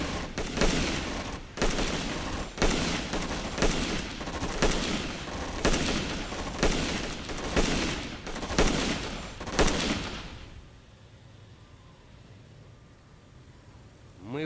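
Soldiers' gunfire in the World War II strategy game Rush for Berlin: loud, repeated rattling volleys in quick succession for about ten seconds, then cutting off to a quiet, low ambient hush.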